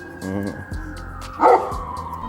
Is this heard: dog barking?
yes